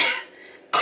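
Two short coughs from a person with a persistent cough, one at the start and a sharp second one at the end, close and fairly loud.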